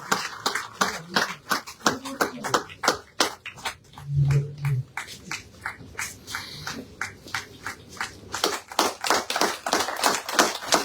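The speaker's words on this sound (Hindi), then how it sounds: "जोरदार तालियों के साथ शगुन परिहार जी का सम्मान करें।" An audience at a BJP membership workshop claps in bursts of sharp, fairly loud hand claps, with a speaker talking in between and a brief quieter stretch partway through.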